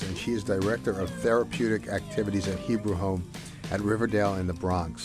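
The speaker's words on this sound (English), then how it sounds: "That is a cat, but it's not an actual cat with, warm-blooded cat. It's a robo-cat." A robotic toy cat meows repeatedly during a radio interview, its rising and falling mews blending with continuous talk from a speaker close to the microphone.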